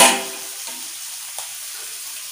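Spices for sambal goreng krecek hit a hot pan in a home kitchen, giving a loud sizzle at the start that quickly settles into a steady, softer frying hiss, with a faint clink partway through.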